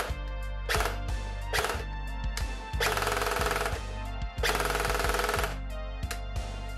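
Airsoft P90 fitted with a Perun Mosfet firing short bursts followed by longer full-auto strings, loud close rapid mechanical rattles with brief pauses between volleys, no talking.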